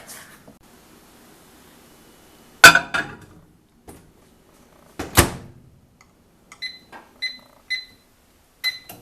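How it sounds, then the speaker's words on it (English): A microwave oven melting butter in a home kitchen: a few loud clunks of the door and buttons, then a run of short, sharp electronic beeps near the end, with near silence between. "we're going to pop it in the microwave and get this melted"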